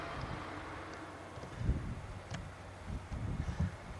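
Cold wind blowing across the summit of the Columbia Icefield, a faint, steady rushing with low gusty thumps of buffeting on the microphone, no talk.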